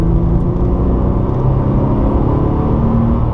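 A Porsche 997 Targa 4S flat-six accelerates on the Circuit de Bresse race track, a steady, loud, dense engine roar with low rumble that holds continuously throughout, no voices.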